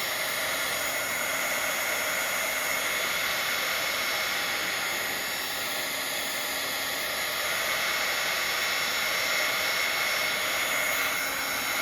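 A hair dryer blows continuously on a Bible journal page, a steady loud roar of rushing air that stays almost constant throughout with no voices.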